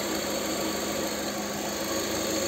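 A Lada Vesta's engine runs steadily at close range after antifreeze and thermostat replacement, a continuous even drone with faint vibration and no pauses or voices.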